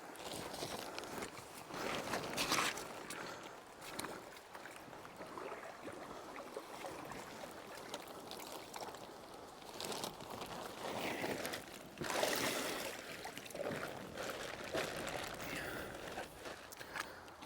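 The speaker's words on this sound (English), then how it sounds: "so we'll have the sound of that creek" A flowing creek near a gold-panning spot, a steady broadband wash of running water with a few brief bumps and handling noises on top, fairly close and continuous throughout.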